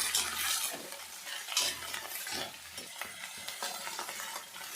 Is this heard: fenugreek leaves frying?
yes